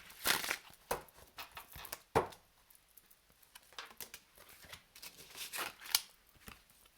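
Playing cards being shuffled by hand during a tarot-style reading, a series of soft riffling bursts and crisp flicks in an uneven rhythm, close and quiet with no talking.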